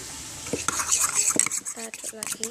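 A utensil stirs a slime mixture in a bowl, quick repeated scraping and clinking strokes close up, with faint voice-like sounds near the end.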